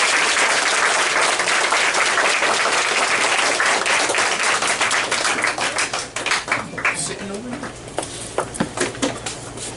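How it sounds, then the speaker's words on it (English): Audience applause at a business plan pitch event, a dense wash of clapping from a room full of people that thins out toward the end into scattered individual claps. "Give them another round of applause."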